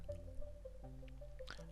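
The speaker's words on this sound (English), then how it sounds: "Rushing inside with all the sea water tumbled Pinocchio and the cricket" Sea water slops and drips inside a whale's belly, with a steady watery squish, scattered single drips and a brief gurgling splash near the end.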